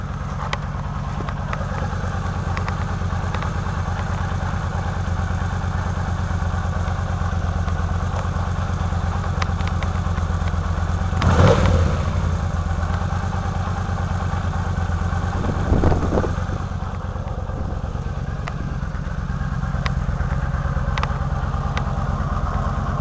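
Yamaha V-Star 950 motorcycle engine idling steadily after an oil service, a low continuous rumble with light mechanical clatter and a couple of brief louder bursts, close by and without talk.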